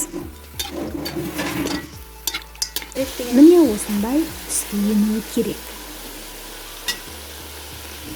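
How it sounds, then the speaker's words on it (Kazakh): Rabbit meat frying over high heat in hot oil for a Kazakh noodle soup, stirred in the pan, with a steady sizzle, utensil scrapes and a voice talking over it. "Ең бірінші майды құйып жақсылап қызғаннан кейін үстіне етті салып қатты отта қуырамыз."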